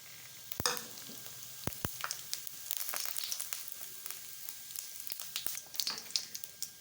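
Whole spices, three dried red chillies, two bay leaves, cumin seeds and whole garam masala, sizzle and crackle in hot oil in a heated kadai, with sharp pops and spattering over a steady faint fry.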